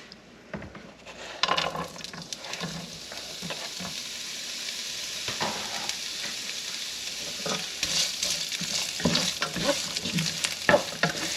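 Carrots frying in a hot pan while beef lo mein is cooked, giving a steady close sizzle with frequent stirring scrapes and clatter that grows denser and louder toward the end.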